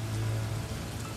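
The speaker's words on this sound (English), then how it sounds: "The rain was now coming down in sheets." Heavy rain pours down in sheets on a dark, empty roadside beside a car, a steady dense hiss with a low rumble underneath, continuous and close with no voices.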